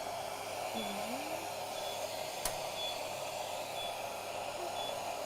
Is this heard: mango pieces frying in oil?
no